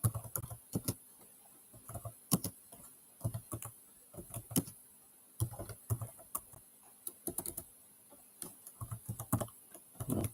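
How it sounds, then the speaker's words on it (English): Bursts of typing on a computer keyboard, quiet and close, with clustered keystrokes separated by short pauses across the whole stretch. "Typing a question."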